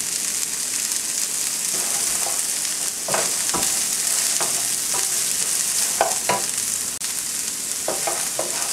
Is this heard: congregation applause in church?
no